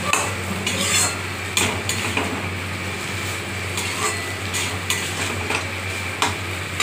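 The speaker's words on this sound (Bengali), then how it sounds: "এবার এগুলো দিয়ে একসঙ্গে মিশিয়ে আমি কষাবো।" Dal being stir-fried in a pan with fried coconut and potato, repeated metal spatula clinks and scrapes over a low sizzle, close and rhythmic, with no speech.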